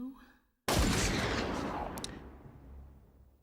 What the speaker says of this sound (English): the screen cuts to black at the sound of a gunshot